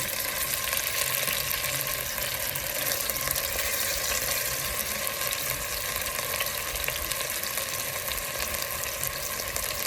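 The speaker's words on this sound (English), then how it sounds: "You hear the searing on both sides." Beef sears in a hot pan with a steady, dense sizzle and crackle that stays close and even throughout, with no talk over it.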